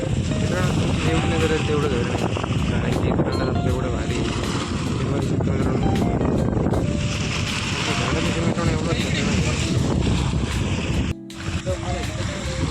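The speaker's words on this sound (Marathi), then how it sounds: "समुद्राच्या लाटा किती येऊ लागले इथे" Waves surge and wash continuously at a dam under strong gusting wind noise, with voices talking throughout.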